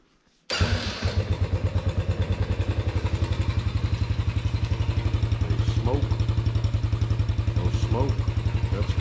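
A motorcycle-type engine fires up after a short quiet moment and settles into a steady, loud, rapid idle with a thumping pulse, running on choke, close by for the rest of the clip; a few short vocal sounds rise briefly over the engine.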